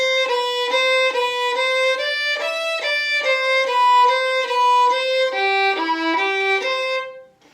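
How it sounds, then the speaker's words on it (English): A string instrument plays Wohlfahrt's Book 1 No. 1 etude with colle bowing: a steady chain of crisp, separated, evenly spaced bowed notes stepping through a melody, clear and close with no talk, ending on a fading final note. "The one that I usually recommend to start is Wolfart, Book 1, Number 1."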